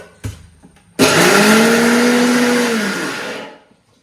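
A mixer grinder starts with a sudden loud whir while grinding lentil vada batter with shallots, garlic and ginger. It runs close and steady for about two and a half seconds, then winds down.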